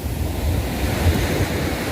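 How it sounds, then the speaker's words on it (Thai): Large ocean waves surge onto Bang Saray beach in Sattahip, Chonburi, making a continuous, loud rushing wash with low rumbling swells and wind buffeting the microphone. "คลื่นใหญ่ซัดเข้ามาเลย"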